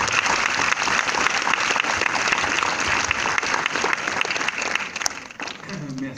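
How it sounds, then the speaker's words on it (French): A cinema audience at a film premiere applauds author Dave Cohen in a dense, steady wash of clapping that holds for several seconds and begins to fade near the end. "On peut l'applaudir"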